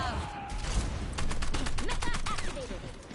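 Rapid bursts of heavy gunfire from Bastion's cannon in a game, with explosions and mechanical clatter, loud and dense, with scattered cries underneath.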